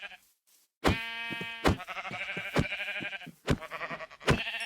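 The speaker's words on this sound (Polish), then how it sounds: "mamy cztery owce, które chciałbym pewnie wszystkie zabić" Several sheep bleat in the Minecraft video game, a run of close, loud, wavering calls one after another after a short quiet start, with no talking.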